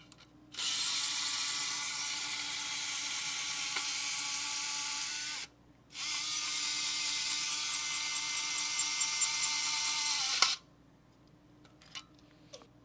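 A Makita DF012DZ 7.2V pen driver runs at its slow speed in two steady whirring bursts of about five seconds each, separated by a short pause, close and clear with no talking.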